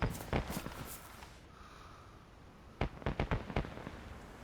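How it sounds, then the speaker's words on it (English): Fireworks going off in the survival game DayZ on the Livonia map, heard as a scattered volley of sharp cracking bursts, with a quieter lull in the middle before a rapid string of pops closes it out. "Somebody's found the fireworks and set off the DayZ fireworks."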